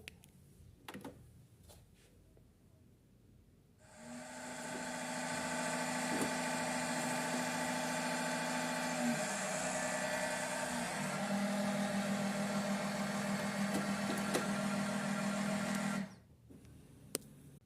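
A loud mechanical whirring hum of a cheap printer starts abruptly, runs steadily for about twelve seconds with a low droning tone, then cuts off.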